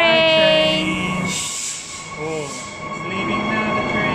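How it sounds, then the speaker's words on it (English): A train departing a station near Perth, Western Australia, rumbles and hisses nearby, wheels squealing with a high metallic whine and tonal hum as it pulls away, loudness easing then rising again. "The train's going now, baby. Bye, train."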